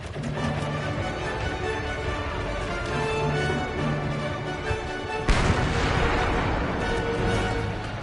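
World War I battlefield gunfire rolls on steadily in the 11-11 Memories Retold video game, a dense rumble of machine gun and artillery fire. A louder burst of crashing fire hits about two-thirds of the way in, with music underneath.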